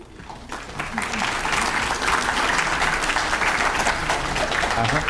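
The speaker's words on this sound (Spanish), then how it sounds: "La recibimos con un fuerte aplauso" An audience at an academic talk gives a presenter a loud welcoming round of applause that swells in after a short pause and stays dense and sustained, with a voice faintly underneath.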